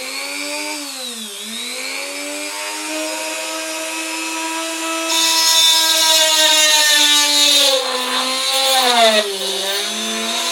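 A high-pitched motor whines steadily and loud, dipping and rising in pitch as a Dremel in a workstation drills under load with a 2.5mm bit.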